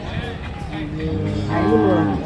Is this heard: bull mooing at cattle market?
yes